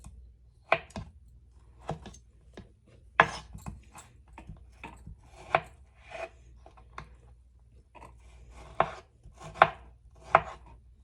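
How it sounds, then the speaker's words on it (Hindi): Knife chopping peeled kiwi into small pieces on a board, a series of irregular crisp cuts, close and clear with quiet pauses between. "अब इनके भी मैं छोटे छोटे पीसेस बनाकर इसमें डाल दूंगी"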